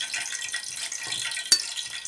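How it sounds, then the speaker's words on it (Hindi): Water trickles and splashes into a bowl of potato pakora batter made with gram flour, cumin and salt, with soft wet stirring sounds and one brief clink near the end, no talking. "अब हम इसको थोड़ा थोड़ा पानी करके मिक्स करना है"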